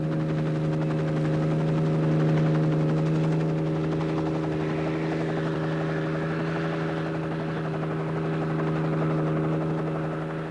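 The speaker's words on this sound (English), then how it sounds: "The helicopter will come out from Derry to lift them above the hedgerows" Steady helicopter rotor drone with a strong low hum and rapid chopping pulse, sustained and fairly close throughout, in 1974 Northern Ireland.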